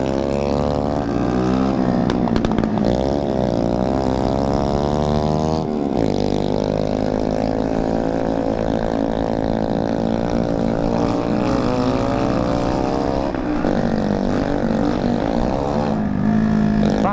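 A Shineray motorcycle with a bare exhaust pipe revs hard and close, its loud engine note climbing and falling in repeated throttle bursts with a few brief cutoffs.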